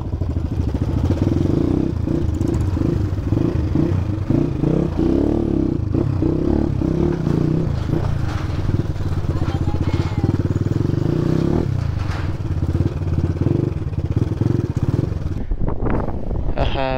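An enduro motorcycle works over rough off-road ground near Dhap Dam in Nepal, its engine droning steadily close up with clattering and scraping as it climbs and jolts along.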